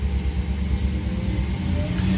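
A 1962 Chevrolet Impala engine idles slowly after a cold start, giving a steady, loud low rumble with an even exhaust burble throughout and no speech.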